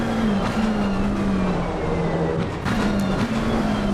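Racing car engines in the game Assetto Corsa Competizione at Laguna Seca, including a McLaren, drone continuously at high revs, pitch rising and dropping with gear changes, loud and steady with no talking.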